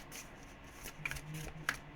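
Tarot cards riffling and shuffling close up in a few brief bursts, soft papery flutters over a quiet room background.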